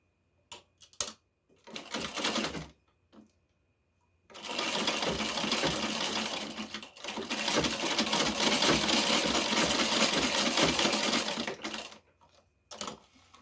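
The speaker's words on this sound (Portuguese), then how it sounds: "E vamos finalizar aqui a costura, agora os dois juntos, os dois lados juntos" A sewing machine stitches the two sides of a fabric seam together in long continuous bursts, loud and close, following a few short clicks and brief runs at the start.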